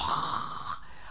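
A voice imitates an old man snoring, a single loud, rough, drawn-out snore lasting under a second before it cuts off.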